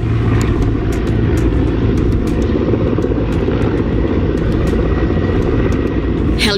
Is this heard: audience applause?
no